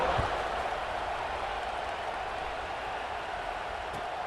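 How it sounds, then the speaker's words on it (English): Football stadium crowd roaring and buzzing after a score in a college game against Kentucky, a dense, steady wash of cheering and noise that holds at a constant loud level, with no commentary audible. "this crowd is buzzing after that last score"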